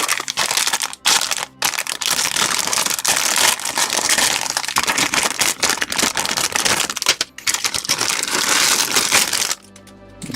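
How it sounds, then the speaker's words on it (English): Blunt scissors snipping small plastic parts from the runners of a 1/20 HG Bandai model kit, a dense run of crisp clicks and crunches close up with a few brief pauses. "Scissors are a bit blunt,"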